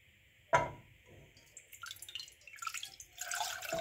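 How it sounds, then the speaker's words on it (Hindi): Tamarind pulp is poured into a pan on the stove, beginning with a sharp splash and followed by wet, dribbling liquid sounds that grow busier toward the end, with no voice. "इसमें मैं शामिल कर रही हूँ ये 2 कप इमली का पल्प"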